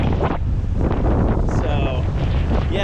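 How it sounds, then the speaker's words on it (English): Steady, heavy wind buffeting a microphone on a small boat running through choppy water on the Intracoastal Waterway, with a continuous roar and the wash of water throughout. "It's getting a little windy and a little choppy"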